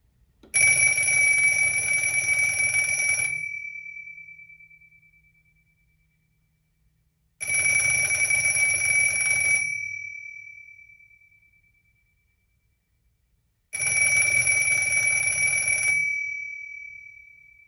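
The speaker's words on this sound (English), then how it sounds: "last but not least, the ringer" A Kellogg 925 "Ashtray" telephone's bell ringer rings in three loud, metallic bursts of about three seconds each, separated by silent pauses, every burst ending in a fading ring.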